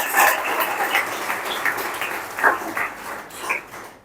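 Applause from an audience at a Jashan gathering, a dense spread of clapping that swells and then thins, with a dog barking intermittently over it.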